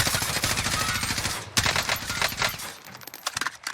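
Rapid automatic gunfire from a Warzone (Modern Warfare battle royale) firefight, dense bursts of shots rattling continuously, with a brief break around the middle before more scattered shots and impacts follow.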